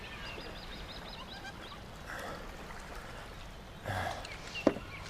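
Chocobo birds in the game Final Fantasy 7 Rebirth give a run of short, honking chirps at a ranch, faint over the game's ambient background, then a louder, sharper call near the end.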